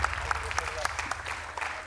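A studio audience applauds on a Turkish television show, steady close clapping with sharp individual claps, while a host talks over it.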